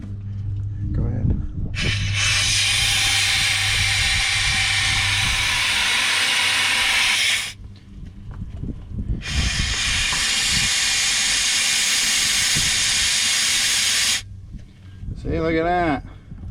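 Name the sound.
compressed air hissing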